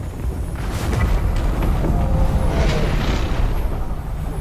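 A loud, sustained rumbling explosion in Final Fantasy XVI, dense low-end roar and crackling debris, continuous for several seconds without a break, no voices.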